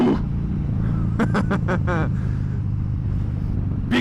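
A Kawasaki Ninja 400 runs with a loud, close engine drone throughout, and a short burst of sharp rising revs from the throttle is heard partway through.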